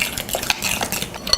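Almond milk being mixed into muffin batter in a bowl, a spoon clinking and scraping against the bowl in short, irregular taps, close and moderately loud with no talking.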